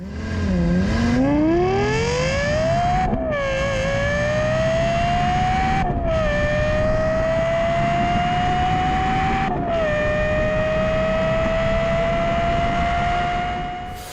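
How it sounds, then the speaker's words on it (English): A Lexus LFA engine revs hard, its high, clean wail sweeping upward and pausing briefly between climbs before holding a loud, steady scream for about fourteen seconds, close and alone. "So let's just listen to the LFA some more."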